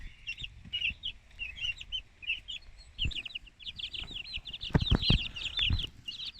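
Chickens from an incubator brood cluck and chirp continuously at moderate distance, with a few sharp knocks and thuds in the pen among the calls.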